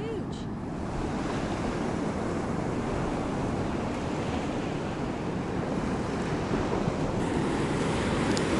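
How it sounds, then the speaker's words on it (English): Large surf breaking along a long empty Australian-style beach, a steady broad roar of waves with wind noise over the microphone, continuous and fairly loud throughout with no talk. "So I'm guessing these waves are being created by that weather system that's out there."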